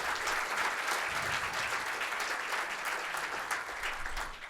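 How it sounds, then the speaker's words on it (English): Conference audience applause for a keynote speaker at a tech event hall, with dense, even clapping from many hands that holds steady throughout and tapers slightly at the end. "A nice round of applause, please."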